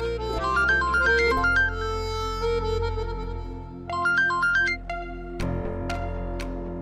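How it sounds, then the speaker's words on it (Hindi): A phone ringtone plays a bright repeating electronic melody in bursts, loud and close over a low background hum, pausing briefly between phrases. "बार बार फोन आ रहा है, अगर इम्पोर्टेंट है तो उठा लो ना।"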